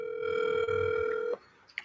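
A phone call rings out over a speakerphone as a steady electronic ringback tone lasting over a second, then cuts off into quiet room sound with a faint click.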